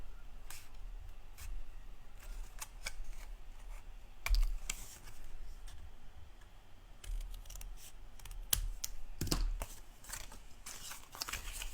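Cardboard corner being cut away for an explosion box craft, a run of sharp snips and clicks at irregular intervals, some louder crunches, close and alone without talk.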